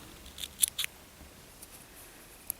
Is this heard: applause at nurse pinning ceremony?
no